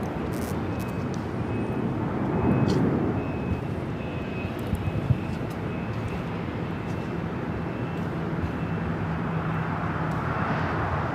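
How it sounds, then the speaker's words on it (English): A China Airlines Airbus A350-900 bound for Taipei takes off from LAX. A steady broadband engine roar holds at moderate loudness throughout, swelling slightly early on, with faint beeping and background airport noise. "This is China Airlines Flight 5 taking off to Taipei on the A350-900."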